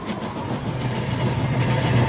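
A model train rolls along rails in the VR railroading game Rolling Line, a steady rumbling clatter with low engine drone that swells slightly, close and continuous.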